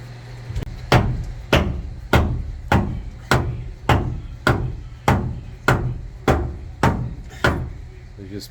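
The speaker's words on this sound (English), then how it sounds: "Just pounding it back into place ever so gently." A hammer pounds a Bombardier driveshaft yoke back into place with about twelve loud, evenly spaced metallic blows at roughly one strike every 0.6 seconds, close and unaccompanied by talk.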